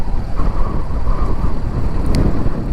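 Strong sea wind buffets the microphone in a steady, loud roar, with a rumble like choppy water underneath and no talking, on the Connemara coast of Ireland.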